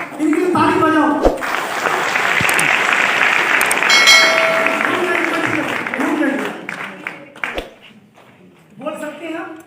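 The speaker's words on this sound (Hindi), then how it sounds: "एक बार इनकी ताली बजाओ।" An audience at a business seminar breaks into sustained applause and clapping for several seconds, loud and close, dying away as a speaker resumes talking.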